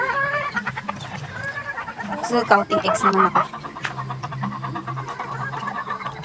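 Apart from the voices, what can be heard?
chickens and hens cackling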